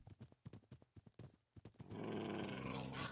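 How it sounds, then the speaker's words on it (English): A dog growls in a series of short rhythmic rumbling bursts, then the sound gives way to a louder, denser noise toward the end. "Yo, your dogs are annoying."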